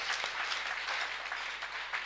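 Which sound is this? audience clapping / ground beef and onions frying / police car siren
audience clapping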